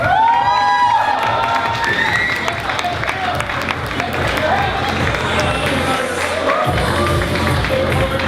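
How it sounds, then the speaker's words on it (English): Audience at a university Eid party fashion show claps and cheers for the models' outfits, loud mixed applause with whoops and shouts, voices mingled in throughout. "A round of applause for the outfits, guys."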